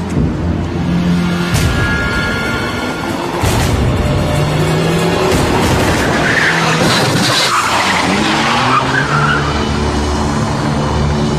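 Car tires skid in a long, loud, close screech over engine noise, with a few sharper squeals breaking through the sustained skid; nobody speaks.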